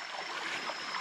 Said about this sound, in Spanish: el arroyo viene por aquí, hay esa pequeña caída, y se forma un pocito de agua muy lindo